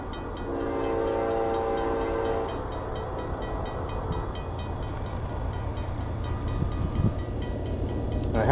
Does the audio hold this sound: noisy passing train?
yes